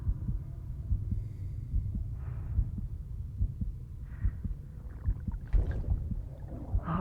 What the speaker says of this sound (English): Hear his heartbeat.